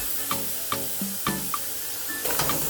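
Chicken drumsticks browning in caramelised sugar in a pot, a soft sizzle and hiss punctuated by several sharp pops and clinks of a utensil against the pot.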